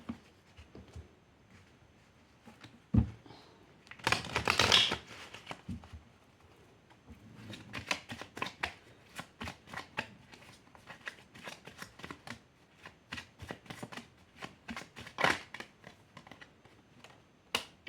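Tarot cards are shuffled by hand in quick bursts of riffling and flicking, with a dense flurry near the start and then rapid repeated snaps, close and fairly quiet with no talking.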